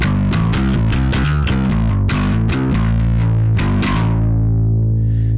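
A thick, fuzzy distorted bass riff through a Keeley Electronics pedal, played in a steady rhythm of plucked notes, loud and close, with no talking.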